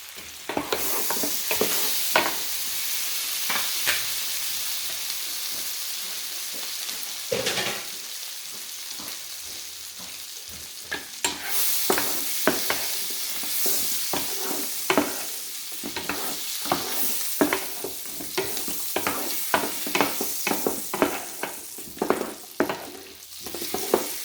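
Thai-style garlic shrimp fry in reduced butter with a constant close sizzle, punctuated throughout by frequent scraping and clacking stirs in the pan.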